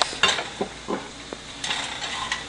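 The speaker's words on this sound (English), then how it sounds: "I will add the cumin seed and hing. Just stir for a few seconds" Cumin seeds and hing hit hot oil, sizzling briskly while a spoon scrapes and stirs the pan in short, uneven strokes, close and clear with no voices.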